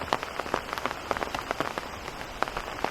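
Rain pours in Todoroki Valley, Japan, a dense steady patter of drops striking surfaces nearby, with irregular louder splats over a constant wash and no talking.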